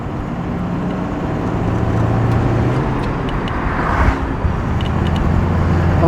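A 1939 Horch 854 Special Roadster cruising in fourth gear: a smooth, even engine hum with road and wind rumble, steady and fairly loud throughout, no voices.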